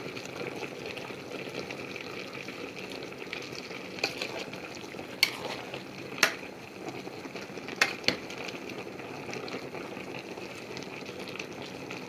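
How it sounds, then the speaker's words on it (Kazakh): Lecho sauce of vegetables simmering in a pot, a low bubbling boil with a steady hum, broken by a few sharp clinks of a spoon or lid, close by and without talk. "Енді қазір 5 минут қайнасын"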